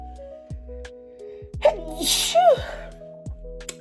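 A single loud sneeze with a sharp burst of breath, close to the mic, set against a quiet background.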